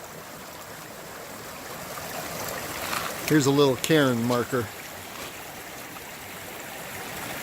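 Water flowing in a creek in Pine Creek Canyon, Rainbow Mountain Wilderness, Nevada, a steady soft wash of running water throughout, with someone talking briefly in the middle.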